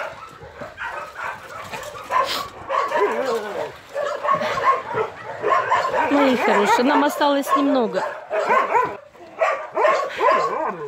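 Dogs at a shelter enclosure bark, yip and whimper in repeated bursts close by, while someone speaks softly over the noise.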